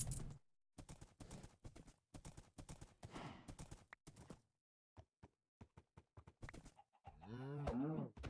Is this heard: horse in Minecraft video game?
yes